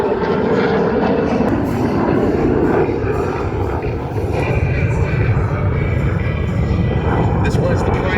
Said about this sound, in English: Inbound now, ladies and gentlemen, from World Air Arms across the globe, including that of North Korea, it's the Mikoyan Gorovich MiG-17 FRESSCO.